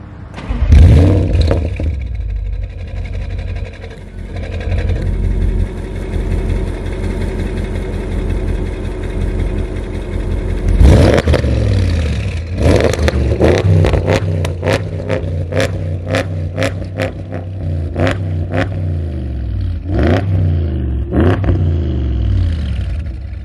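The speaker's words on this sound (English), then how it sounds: "Let's give you a start up, make some noise," A 720 hp, 1100 Nm Audi S8 D4 V8 limousine with Bevo tuning starts up loud and close, idles roughly, then fires off a long series of sharp, rapid throttle blips and revs that rise and fall.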